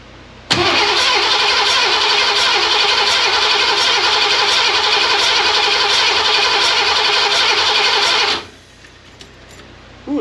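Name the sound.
Ford 302 V8 engine cranking during compression test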